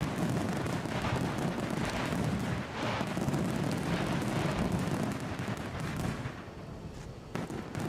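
Fireworks exploding outdoors near Edinburgh airport, a dense, continuous crackle of bursts and booms layered over one another, loud and steady across the whole stretch with no voices.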